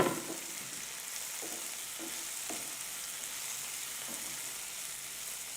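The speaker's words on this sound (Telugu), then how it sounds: "ఇలా ఫ్రై చేసుకోవాలి." Boiled cauliflower pieces fry in a pan with a steady, moderate hiss, broken by a handful of soft stirring bumps spaced a second or so apart, with no voices.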